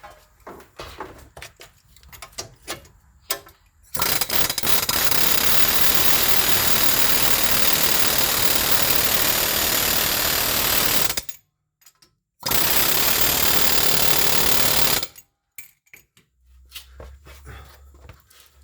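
An air hammer loosening a ball joint on a 2017 Jeep Wrangler rattles in two long, loud continuous bursts, separated by a brief pause, with quieter clanks and handling noises before and after.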